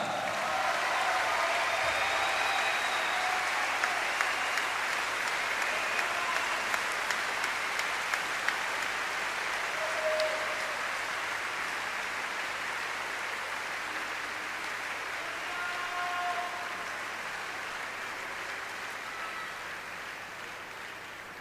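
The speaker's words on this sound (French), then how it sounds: "un tonnerre d'applaudissements pour les vainqueurs de ces 30e internationaux de" Sustained audience applause fills the whole stretch at the Cesta Punta international tournament trophy ceremony, a dense steady clatter of many hands in a large venue, fading slightly toward the end with no talk over it.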